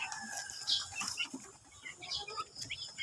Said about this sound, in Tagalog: Ang ganda ng manok oh.